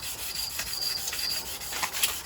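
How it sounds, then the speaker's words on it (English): Hand-sanding the rough, flaking painted faces of alloy wheels from a Mk6 Fiesta ST150 gives a close, steady rasping rub in short repeated strokes. "Sanding all these areas where the paint's really rough and flaking off until they're nice and smooth"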